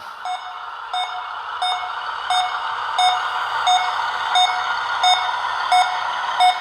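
A rare 12-tire 6x6 Steiger Panther model tractor, an ERTL conversion, backs up while sounding evenly spaced electronic reversing beeps, about ten in a row, clear and steady.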